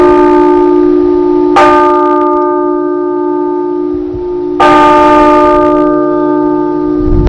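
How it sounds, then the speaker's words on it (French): A church bell rings loud and close on Easter Day in Chad, two strong strikes several seconds apart, each leaving a long ringing hum that slowly fades. "au son de cette cloche, en ce jour de Pâques"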